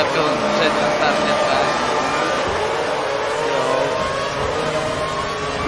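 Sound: Mercedes car engine revving in F1 2012 video game

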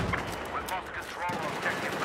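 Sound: MG4 machine gun firing in Battlefield 4 video game

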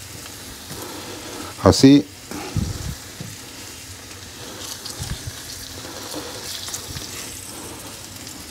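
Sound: Brussels sprouts frying in a pan

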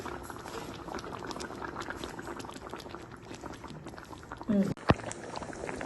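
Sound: fish curry simmering and boiling on the stove

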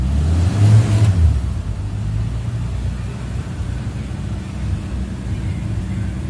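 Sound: car engine running smoothly

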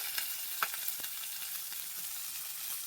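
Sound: whole fish frying

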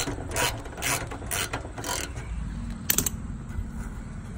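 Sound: removing a screw to take off a car front fender

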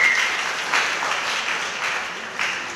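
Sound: applause for a newborn baby announcement in church

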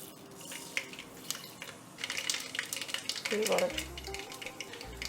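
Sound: mustard seeds spluttering in hot sesame oil

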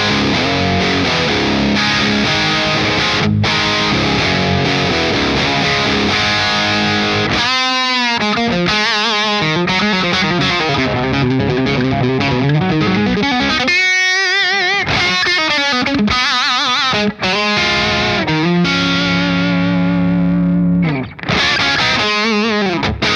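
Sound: electric guitar through Friedman BE-100D amp with gain pushed

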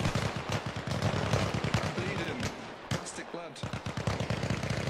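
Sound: gunfire in Arma Reforger video game

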